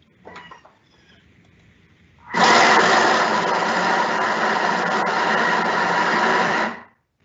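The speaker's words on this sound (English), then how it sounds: "So that's going to go in the Thermomix. Once again, we're going to have 10 to 15 seconds of noise." A Thermomix blends a thick snack dough: a loud, steady motor whir starts abruptly after a few faint knocks and runs continuously for about four seconds before cutting off.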